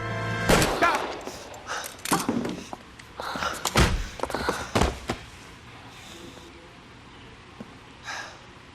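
Gunfire in the video game L.A. Noire comes as a series of sharp, irregular shots and thuds over several seconds, loud up close, then tapering into quieter background noise.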